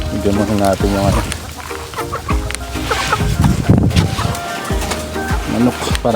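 Chickens cluck and squawk at feeding time, several birds close by in an irregular, busy chorus, with a person talking briefly among them.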